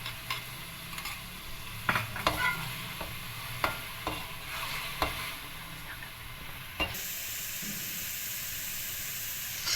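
Chicken with raw tomato puree sautéing in a pan, a low steady sizzle with repeated scraping stirs for several seconds, then a smoother hissing sizzle once stirring stops, no voices.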